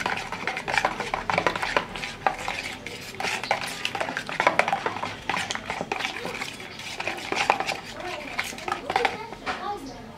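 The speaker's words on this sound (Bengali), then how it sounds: "এবার ভালোভাবে মিশিয়ে নিব এটাকে দইয়ের সঙ্গে" Chili and salt are stirred into a yogurt marinade in a bowl, giving a busy run of close spoon scrapes and clinks against the bowl that continues throughout, with a voice speaking over it.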